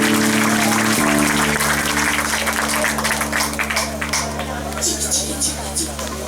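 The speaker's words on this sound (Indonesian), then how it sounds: "tepuk tangan semua." An Indonesian audience bursts into applause after a hum and music cuts off, the clapping loud at first and then tapering over several seconds.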